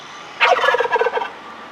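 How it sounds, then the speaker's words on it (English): A turkey gobbles once in a short, loud, rattling burst close by, standing out against quiet background noise. "That is really a nice bird, actually."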